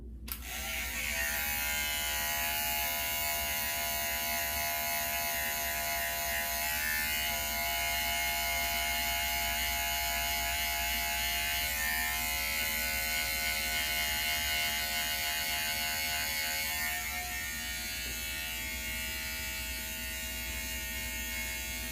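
Electric hair clippers with a number 2 guard trim a beard, a steady close buzzing drone running throughout with slight shifts in tone as the blade moves, no talking.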